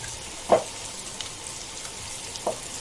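Mutton keema fries in a pan on a tawa, giving two brief sizzling bursts over a quiet, steady background hiss. The sound is faint and close, with no voices.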